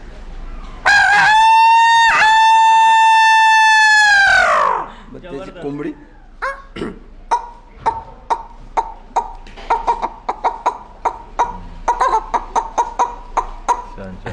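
A man imitates a rooster's cock-a-doodle-doo with a loud, sustained crow, then breaks into a rapid run of sharp, clucking chicken-like calls that continue to the end.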